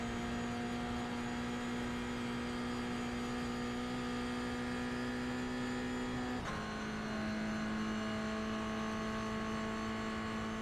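Engine in a racing video game holding a steady, loud drone with a sustained pitch, which dips and briefly shifts near the middle as the car shifts up to fifth gear, then carries on without any voices.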